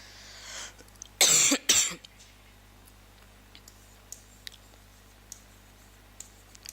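A short burst of two or three harsh coughs, fairly close, followed by quiet room tone with faint scattered clicks.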